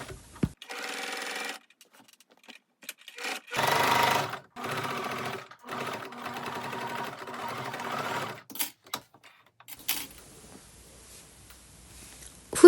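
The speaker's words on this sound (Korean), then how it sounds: "지금 시침핀으로 고정한 후드의 안단을 박음질 하겠습니다." Sewing machine stitching the pinned facing inside the hood of a sweat jacket, running in several bursts of steady whirring separated by short pauses, close and fairly quiet, with small clicks between runs.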